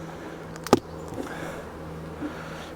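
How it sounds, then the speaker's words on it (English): Honeybees in an opened beehive super, crown board lifted, giving a low steady hum that stays faint and close, with a single sharp knock early on. "how many bees we've got here"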